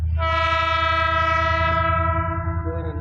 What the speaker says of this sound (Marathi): रेल्वे आली मैत्रिणींनो